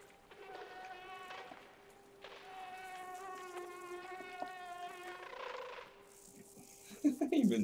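A mosquito in the video game Limbo buzzes in a thin, wavering whine that fades in and out over several seconds, ending with a few soft thuds.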